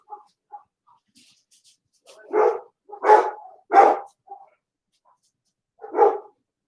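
A dog barks four sharp times at close range, three in quick succession and one after a pause, with small whimpers and quiet gaps between.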